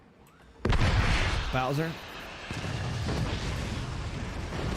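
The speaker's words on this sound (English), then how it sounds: "These shotguns are putting some serious work here" Shotguns blast in the Forts strategy game during a 2v2 tournament, a sudden loud boom followed by sustained rumbling fire and further bursts under a commentator's voice.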